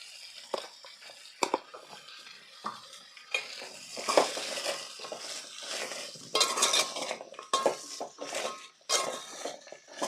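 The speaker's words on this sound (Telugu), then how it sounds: "ఈ ఉప్పు కలిసేలా ఒకసారి కలుపుకొని" Spoon clinking and scraping in a cooking pan while broad beans are stirred with salt, irregular close metallic taps and soft rustling with brief sizzle.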